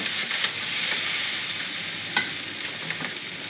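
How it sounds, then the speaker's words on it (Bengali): Vegetables sizzle and crackle in hot oil in a pan while being stirred, with steady close frying hiss and a few scraping knocks from the spatula, no voices. "সবজিটা আমার ভাজা ভাজা হয়ে গেছে।"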